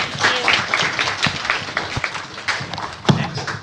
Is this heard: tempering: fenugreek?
no